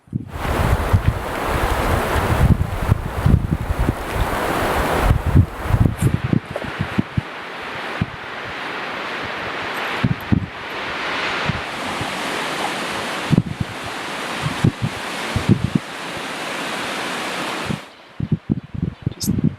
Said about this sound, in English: It's not a heavy rain, but it's starting to blow.